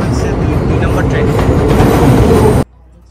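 A number 2 subway train at a New York station roars with a loud, steady rumble and rattle that cuts off abruptly near the end, with voices mixed under the noise.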